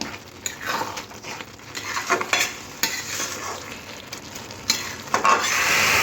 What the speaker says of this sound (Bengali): আরও পনেরো থেকে কুড়ি মিনিট এইভাবে নাড়াচাড়া করতে হবে যাতে নিচে না ধরে যায়